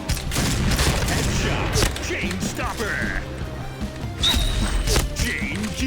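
Sniper rifle shots in the online shooter Point Blank, loud cracking bursts and impacts amid busy game noise, with someone talking excitedly over the action.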